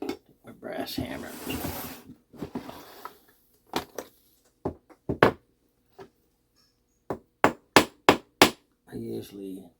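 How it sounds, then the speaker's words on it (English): A brass hammer strikes metal clock parts, for a Shanghai 555 clock being repaired and clamped with C clamps, in sharp separate taps close by. After a burst of muffled handling noise, a quick run of louder blows follows. "a brass hammer."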